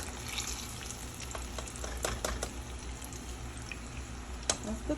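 Chili wings deep-frying in spicy chili oil, a steady crackling sizzle throughout with scattered sharper pops and spits, close and continuous with no talking.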